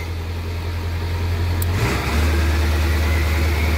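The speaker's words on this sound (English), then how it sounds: "the truck's really loud because we recently straight piped it" A straight-piped 1996 Ford F-250 7.3L diesel engine rumbles loudly and close at idle, its low throb stepping up briefly to a slightly higher, steady high-idle drone.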